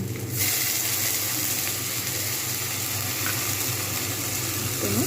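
Ginger and garlic paste sizzles loudly in a pan after a splash of water, a dense, continuous hiss close up that stays steady throughout with no voices.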